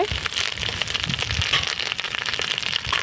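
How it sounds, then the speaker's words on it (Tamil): Fresh green curry leaves sizzle and crackle in hot oil in a pan, a steady dense spatter of pops and hiss throughout, fairly close with no talking. "எண்ணெய் ஊற்றி அந்த கருவேப்பிலை பச்சையாகவே போட்டு வதக்கிட்டு"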